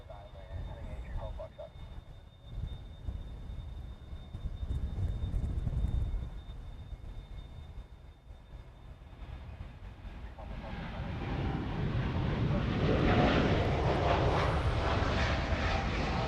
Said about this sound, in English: which sounds like we have the 737-200 coming around the corner